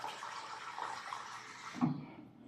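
Steady broadband rush of running water from a tap, continuous and fairly close, cutting off near the end with a brief low clunk.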